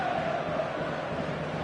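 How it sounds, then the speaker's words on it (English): Stadium crowd noise in the football video game eFootball, a dense, steady roar of many voices at moderate level throughout. "The stadium is full of noise and energy."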